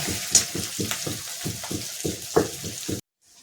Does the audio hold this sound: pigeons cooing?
no